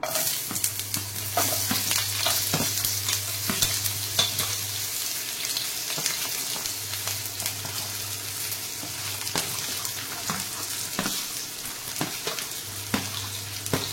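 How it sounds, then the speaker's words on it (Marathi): Chopped onion fries in oil left over from frying paneer for matar paneer masala, a steady close sizzle with intermittent spatula scrapes and a low background hum. "आपण आधी कांदा घेऊया भाजून"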